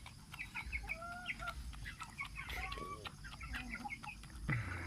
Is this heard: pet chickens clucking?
yes